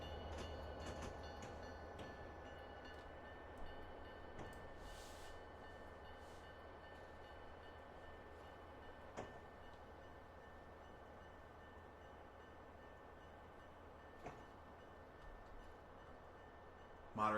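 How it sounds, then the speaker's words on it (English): Long freight train passing by in a Cajon Pass train simulator game: a steady low rumble of rolling railcars with faint clicks and a few soft knocks, continuous and quiet for the whole stretch. "I'm just going to wait here for the train to finish going by."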